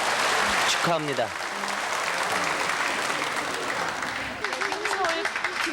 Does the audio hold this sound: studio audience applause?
yes